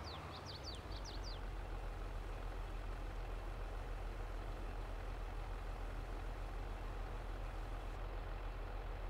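A tractor engine idles in Farming Simulator 22, a steady low diesel rumble that runs unchanged throughout, with a few faint bird chirps at the start.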